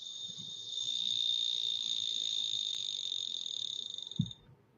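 A cricket's continuous high, steady trill runs for several seconds near the listener, then stops abruptly, with a short low thump near the end.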